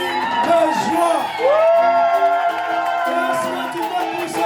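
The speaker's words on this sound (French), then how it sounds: "Est-ce que tu peux pousser des cris de joie?" Wedding guests shout and whoop with joy, loud overlapping voices rising and falling as a crowd cheers close by, with a chant-like tone running through the whole stretch.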